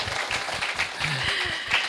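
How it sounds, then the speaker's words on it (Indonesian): An audience at a community gathering claps in a dense, steady patter that stays fairly loud for about two seconds, with faint voices mixed in underneath. "tepuk tangan buat kita semua yang udah ngerasain ini juga ya"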